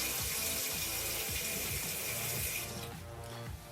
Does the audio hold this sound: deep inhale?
no